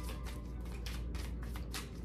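Tarot cards are shuffled close up in soft, papery riffling bursts that repeat several times in a quick rhythm, with no voices.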